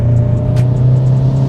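A Volkswagen Golf 7 GTI Performance, 245 hp, manual gearbox, pulls hard in a loud, close, steady engine drone with a constant low hum and faint ticks, no voices.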